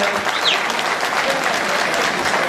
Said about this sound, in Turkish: Alkışlarınızla.